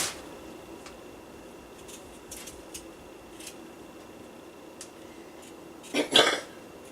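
One short, close cough from a lingering cold breaks a near-silent stretch in a kitchen that holds only a few faint clicks and taps.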